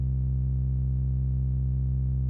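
Deep synth drone from the Pigments synthesizer, pitched down two octaves, holds one steady low tone with stacked harmonics for a little over two seconds, quiet and alone with no voices.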